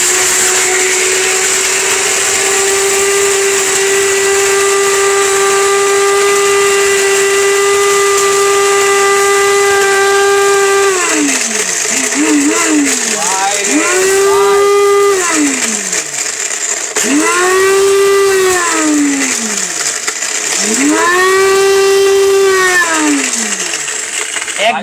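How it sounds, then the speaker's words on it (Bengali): A blender machine grinds glass bottles into powder with a loud, piercing motor whine that holds steady, then dips and climbs again several times as the load shifts, under a harsh gritty hiss. "কাচের বোতল পাউডার করছি।"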